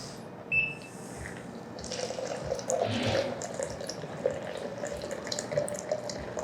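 Hot water is poured onto ground Bolivian coffee in a French press, making a steady, moderate splashing and trickling stream that runs for several seconds with small drips and no voices.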